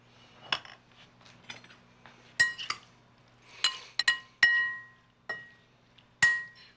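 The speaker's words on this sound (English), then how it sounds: "So we're mixing the figs with the cut pears." Figs and cut pears being mixed in a glass bowl for a pear and fig charlotte cake, giving scattered sharp clinks and taps of utensil on glass, several louder knocks spaced irregularly, close and without talk.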